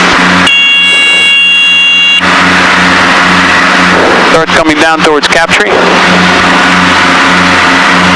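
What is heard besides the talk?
Piper Seneca twin-engine aircraft engines in flight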